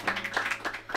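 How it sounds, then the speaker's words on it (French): Hands clapping for a football team after an intense match, a quick run of close, steady claps filling the whole moment with no talk. "moi je vous applaudis"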